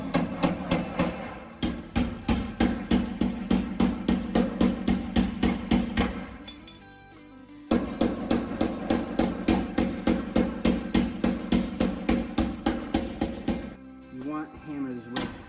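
A pointed hammer strikes patch metal for the door of a 1972 Road Runner GTX in rapid, regular close blows, two long runs of about a dozen sharp metallic hits each, separated by a short pause.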